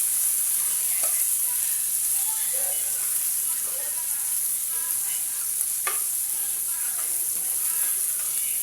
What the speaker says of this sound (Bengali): এবার পেঁয়াজ মরিচ রসুন সেগুলো আমি দিয়ে দিলাম এবার এটা কেউ ভাজতে হবে লাল লাল করে ভেজে নেবো